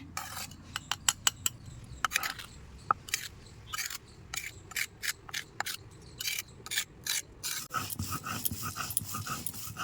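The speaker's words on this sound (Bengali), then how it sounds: "আমি পাটাতেই সুন্দর করে বেটে নিচ্ছি" Salted hilsa fish is ground on a stone grinding slab with quick, rhythmic rasping strokes in short bursts, close and fairly quiet, with no voices.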